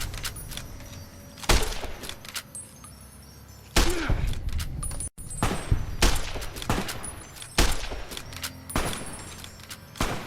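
Gunfire from Fallout: New Vegas, with several sharp broadband shots going off at irregular intervals over a steady game ambience. The bursts are loud and near, with short gaps between them and no talk.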